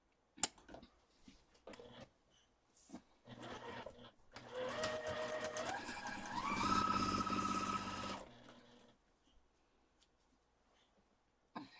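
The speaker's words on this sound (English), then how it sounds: "Let's continue sewing." A sewing machine stitching a Christmas quilt runs in a steady whirring burst of about four seconds, its pitch rising partway through, framed by quiet handling clicks before and after.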